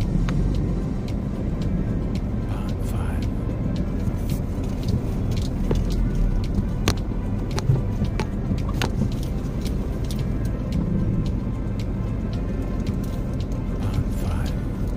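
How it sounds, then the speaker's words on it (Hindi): A car being driven into a parking spot at a busy Sunday market, with steady engine and road noise throughout, sharp clicks here and there, and faint voices around it. "तो यहाँ से पार्क करते हैं गाड़ी।"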